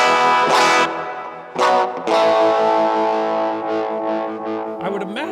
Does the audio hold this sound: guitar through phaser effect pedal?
yes